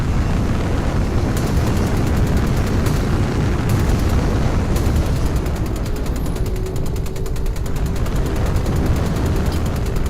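In the Star Citizen video game, a spaceship's shields take weapons fire: a loud, continuous barrage of booming impacts and dense crackling blasts over a deep rumble, with no pause.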